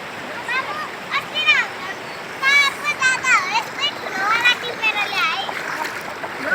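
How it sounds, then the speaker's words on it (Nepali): Children splash and play in a river, with water spattering continuously under their bright, excited voices chattering and calling out close by. "बच्चाहरूलाई खोलामा खेल्न पाए जान खोज्दैन"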